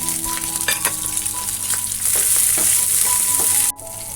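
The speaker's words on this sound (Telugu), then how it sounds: "ఇప్పుడు ఇదే ప్యాన్లో ఇంకో టేబుల్ స్పూన్ ఆయిల్ వేసుకోవాలి కట్ చేసిన పది పచ్చిమిరపకాయలు వేసుకోవాలి" Chopped green chillies frying in a tablespoon of oil in a pan for a sour Telugu vakkaya pickle, a steady close sizzle with bursts of crackling and spitting that swells louder partway through, then drops away near the end.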